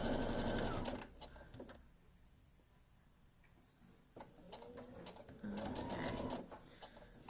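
A sewing machine stitches fabric letters in short whirring bursts: a loud run at the start, a quiet pause, then more stitching near the end, with faint clicking mechanical ticks between.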